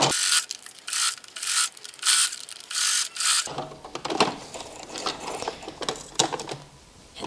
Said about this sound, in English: And then I'm sewing along this line